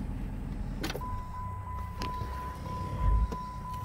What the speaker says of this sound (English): I always roll the window down